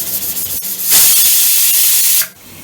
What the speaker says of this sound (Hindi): 1 सीटी आ गई है, अब गैस को बंद कर देंगे